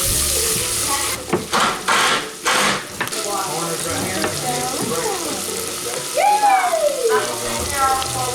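Chopped onion in melted butter over medium heat sizzles and crackles in a pan throughout, with a few louder clatters of stirring early on.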